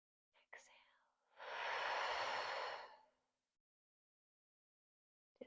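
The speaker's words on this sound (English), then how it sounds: "Inhale, exhale." A deep, long exhale during a yoga breathing exercise for anxiety: a soft, breathy rush of air lasting about two seconds, preceded by a brief faint breath, close and alone without talk.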